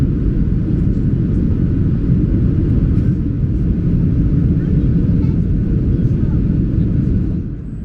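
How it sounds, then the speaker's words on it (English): Inside the cabin of a Ryanair Boeing 737 descending toward Hamburg, a loud, steady low engine and air rumble fills the space, fading slightly at the very end. "After entering the airspace of Schleswig-Holstein, we begin our descent."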